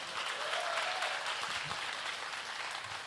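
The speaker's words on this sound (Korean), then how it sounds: "저 박수 받고 싶은 마음이 전혀 없었는데 그렇게 또 치시고 싶다 하신다면 제대로 치지 않으면 정말 안 됩니다" A church congregation at a young adults' worship service applauding, a full, steady patter of many hands clapping together, loud and continuous throughout with no speech over it.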